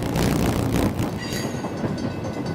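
Freight train rolling on rails through the Sierra mountains, a loud, close rumbling roar with grinding wheel noise and a brief high squeal as it passes, with no voices.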